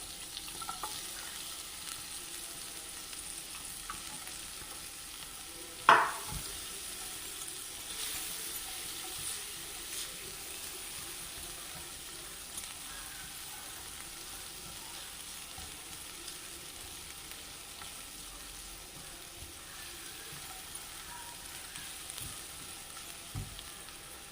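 Chopped onions fry in a pan with a steady, low hiss that runs throughout, while occasional stirring scrapes and one sharp knock of the utensil early on stand out.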